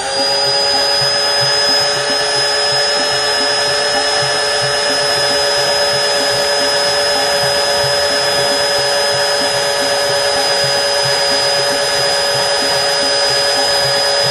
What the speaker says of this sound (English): so that you can watch as I drill